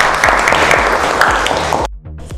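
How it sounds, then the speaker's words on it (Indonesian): A school classroom of students claps for a presenting group in an arts lesson, loud dense applause that stops abruptly near the end, followed by a brief quieter tail. "Tepuk tangan untuk kelompoknya Dani"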